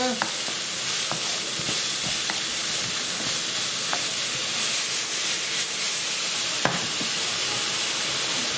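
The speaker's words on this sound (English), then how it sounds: "Give it a stir." Onions for a British Indian restaurant chicken rogan josh fry in hot oil in a pan, a steady loud sizzle and hiss with occasional scraping knocks of a spoon stirring them.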